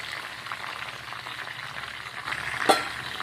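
Homemade hair oil with hibiscus leaves and flowers heats on the stove, giving a continuous soft, even sizzle up close with one brief clatter near the end.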